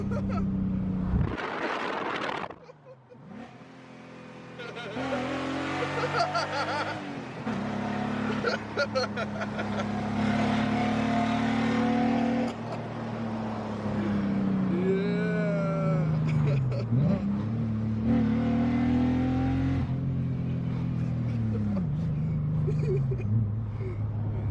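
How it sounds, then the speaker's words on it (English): An old BMW E30 with a big exhaust leak revs hard and loud for the whole stretch, its engine note climbing and falling in long sweeps, coarse and blatty, with people talking and shouting over it. "big exhaust leaks"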